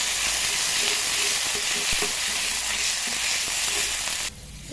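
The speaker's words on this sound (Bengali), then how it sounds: "প্রথমে সয়াবিন তেল দিয়ে দিলাম। তো এখানে দিচ্ছি পেঁয়াজ, লাল মরিচ, জিরে" Onion, red chili and cumin sizzle vigorously in hot soybean oil, a loud hissing crackle that holds steady and then drops away abruptly just before the end.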